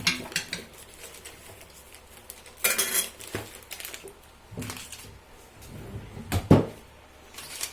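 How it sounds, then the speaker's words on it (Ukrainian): A spoon clinks and scrapes against a pan in several separate bursts, with quieter stirring and kitchen clatter in between. "Розмішуємо."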